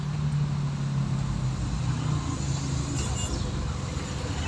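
A bus heading from Aceh toward Medan runs past on the road at Tanjung Pura, a steady low engine drone holding for several seconds, with traffic rumble and no talk.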